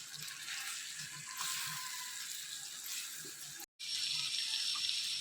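Water pours into a pan of drumstick and dried prawn curry, a continuous hissing splash with faint sizzling beneath, briefly cut off near the end before resuming, close and fairly quiet, with no talk.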